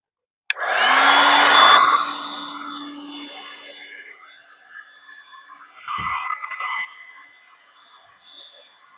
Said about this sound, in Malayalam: നമുക്ക് ഈ ഹീറ്റ് ഒന്ന് ഓണാക്കാം